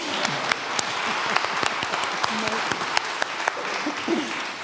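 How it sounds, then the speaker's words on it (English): Applause from an audience, dense and steady clapping throughout with some voices mixed in underneath. "You can clap now, I know you want to."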